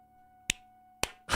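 Two sharp, isolated claps a half second apart, close and crisp over a low hum, followed by a louder burst of noise at the end.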